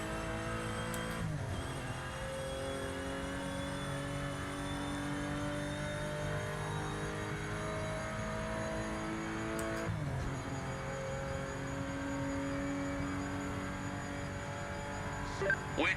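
Race car engine from the Project Motor Racing sim, droning at steady high revs with shifting harmonic lines, a brief gear change near the start and another around ten seconds, continuous and fairly loud throughout.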